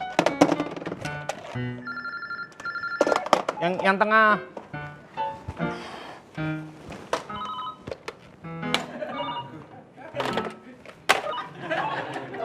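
Several telephones in an office ring in repeated bursts of electronic tones, overlapping with lively talking and a few thumps.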